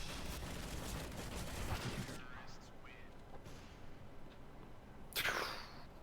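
Gunfire in the shooter game CS:GO, a dense, loud burst of shots for the first two seconds, then a quieter gap with scattered faint sounds and one more sharp crack near the end, with a voice talking over the action.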